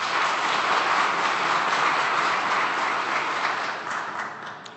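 Dense audience clapping greets a guest introduced at a formal event, holding steady and full before gradually thinning out toward the end.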